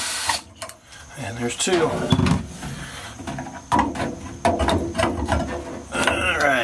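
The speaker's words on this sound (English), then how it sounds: "got my trusty DeWalt screwdriver, and get this loose" A DeWalt screwdriver backs screws out of a Frigidaire commercial freezer during a motor repair, whirring in short bursts with clicks and rattles between them while someone talks over it nearby.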